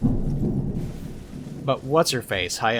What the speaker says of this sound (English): I don't know if you guys can actually hear the cracking of thunder outside.